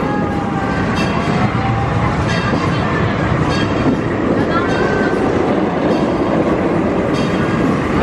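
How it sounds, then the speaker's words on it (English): PortAventura Railroad theme park train running steadily on its tracks, a continuous rumble with faint wheel clatter and occasional higher squeals, heard close and loud throughout. "leaving Sesame Aventura on a nice journey round on the PortAventura Railroad."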